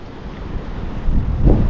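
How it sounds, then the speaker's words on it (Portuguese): Rain and gusting wind buffet a microphone on Porto Nassau beach in Barreiros, Pernambuco, a steady broadband rumble that swells toward the end, with no voices. "agora a chuva aumentou mais um pouquinho"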